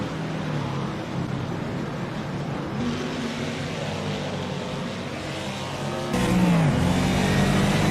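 A race car engine in the rFactor 2 sim racing game drones steadily and loud throughout, its pitch dipping and rising near the end as it shifts and revs again, with no talking.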